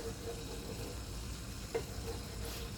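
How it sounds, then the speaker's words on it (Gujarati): Gundar paak mixture, a traditional Indian sweet made with edible gum and mawa, thickening in a pan over a low gas flame as it is stirred, with a steady soft sizzle and faint scraping throughout, no talk. "થોડુંક માવા જેવું થઈ જાય જાડું ત્યાં સુધી આપણે હલાવતા જ રહેવાનું છે"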